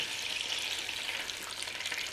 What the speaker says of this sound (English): we got some sausages sizzling there